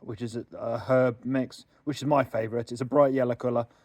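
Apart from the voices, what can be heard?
No everyday noises stand out.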